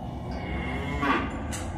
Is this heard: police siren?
no